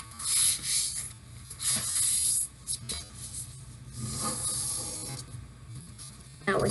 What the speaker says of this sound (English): Now we fold it diagonally in the other direction.